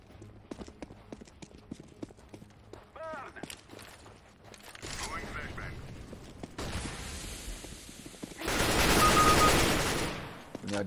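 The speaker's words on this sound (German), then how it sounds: "er kann einfach nicht mit der AK den Spray kontrollieren" Bursts of rapid AK rifle spray fire in CS:GO, loud and clattering, rising to a dense, sustained volley near the end, with other game effects and voices around it.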